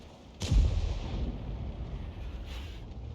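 A tank shell striking an enemy tank in a tank combat video game, a single heavy boom with a sharp onset followed by a rumbling decay, with a fainter second impact near the end.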